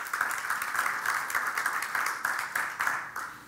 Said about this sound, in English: Break for applause.